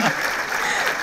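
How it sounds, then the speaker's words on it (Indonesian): A short burst of dense clapping from a studio audience at a TV talk show, loud and continuous. "tepuk tangan"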